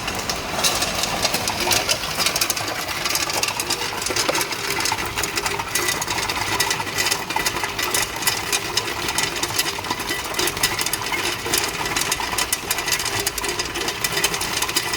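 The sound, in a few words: 1-ton tube ice machine running on single-phase power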